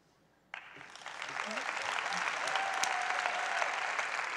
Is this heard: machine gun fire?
no